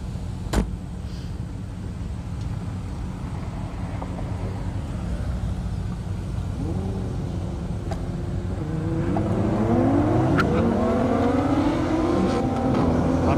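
An Audi R8 race car at an airport drag racing event: a steady engine rumble builds into rising, revving acceleration tones that grow louder and sweep upward toward the end, with no talking.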